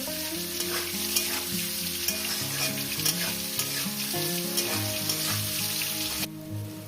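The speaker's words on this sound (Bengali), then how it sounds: "লবণ দিয়ে এটাকে আমি দু মিনিট ভেজে নেব" Onions sizzle and crackle steadily in a hot pan, with a few stirring scrapes, over soft background music.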